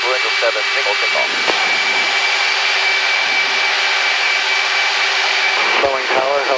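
A loud, steady jet engine roar from a Blue Angels jet on a single takeoff fills the whole stretch without letting up, with a voice talking over it.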